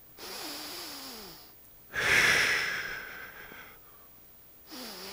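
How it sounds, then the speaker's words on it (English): Deep breathing during a hip-focused yoga class: a soft breath, a pause, then a louder forceful exhale, followed by another quieter breath, close and without speech. "We're breathing."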